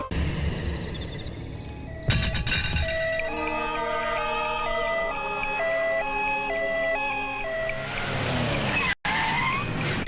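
Ambulance and a minister's convoy of cars pulling up at a checkpoint in a comedy film scene: loud tyre skid, then a wailing siren dominating for several seconds, ending in a brief cut.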